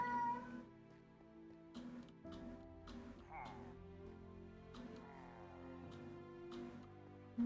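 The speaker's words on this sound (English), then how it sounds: "Yeah, I hear the meow." A cat meows in a Minecraft game, a few short cries scattered across the stretch over steady game music and sound effects, with no talking.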